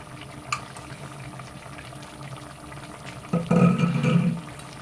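Ridge gourd fritters for jhinge jolbora simmer in a pot, a soft steady bubbling that swells into louder, fuller boiling near the end.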